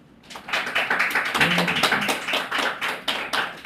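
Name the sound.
church congregation applauding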